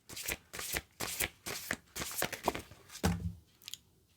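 Oversized tarot cards shuffled by hand in a run of quick, crisp riffling bursts at close range, one after another, with no voices.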